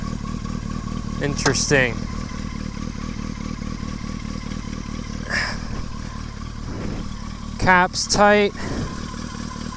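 Yamaha XJ650 Turbo motorcycle engine idling steadily with a low continuous rumble throughout, a little smoke coming from the turbo dump pipe, while someone talks briefly over it and some light clatter sounds nearby.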